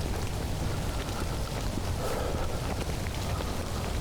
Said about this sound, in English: The rain could get heavy.